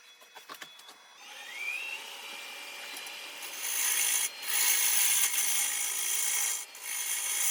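A hollowing tool cuts side grain on a wood hollow form turning on a lathe, with a steady rasping, scraping hiss that grows louder partway through and continues close up, with brief breaks, and no talk.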